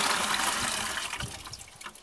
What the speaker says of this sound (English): Then take your water and pour the water into the shower.